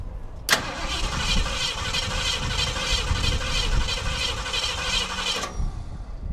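A 1969 Ford Ranchero engine fitted with a Holley carburetor cranks over and fires, then runs at a steady, fairly loud idle for about five seconds before being shut off, with no talking.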